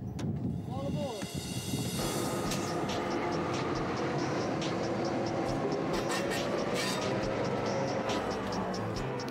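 Queensland train rolling slowly over track laid directly on the earth, a steady close rumble with hissing and faint rhythmic clicks of the wheels, and a voice speaking over it.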